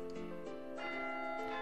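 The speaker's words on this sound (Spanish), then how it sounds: "campana." A bell sound effect rings out alone, a sustained harmonic peal with a clear strike near the start and another swell partway through, moderately loud and steady.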